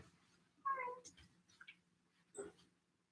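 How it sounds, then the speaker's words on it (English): Several house cats meow in short, separate calls, one louder cry near the start and another later, heard close in a quiet room during a Thai yoga massage session. "We got some kitties trying to get on the action here."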